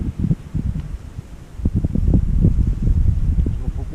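Gusty wind blows on an outdoor fishing bank and buffets the microphone, a low rumbling roar that swells and fades and then grows stronger and steady.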